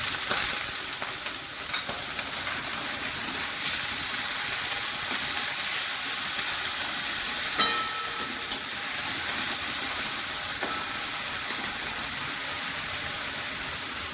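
Prawns and chopped onion frying in mustard oil with black cumin seeds, giving a steady, dense sizzle that runs evenly throughout with small crackles and no talking.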